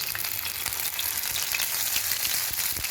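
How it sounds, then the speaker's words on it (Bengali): Whole cumin and whole garam masala spices frying in hot oil, a dense, steady crackling sizzle that runs continuously, close and loud, with no voices. "ফোড়নে দিচ্ছি গোটা জিরে, গোটা গরম মশলা"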